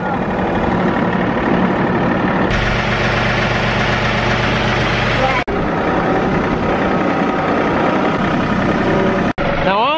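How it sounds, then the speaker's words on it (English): A farm tractor engine idles loudly and steadily throughout, a constant close-up rumble with brief interruptions, while people talk nearby. "Onyx could handle this tractor by himself"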